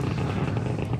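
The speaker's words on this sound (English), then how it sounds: "Confirmation, we're back up on power on the 9 Merlin 1D engines" The nine Merlin 1D engines of a SpaceX Falcon first stage throttle up, heard as a dense, steady, loud rumbling roar with no break.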